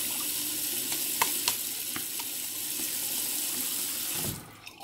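Water runs steadily from a tap into a sink while skin is prepared before a shave, a continuous close splashing hiss with a few small knocks, cutting off just before the end.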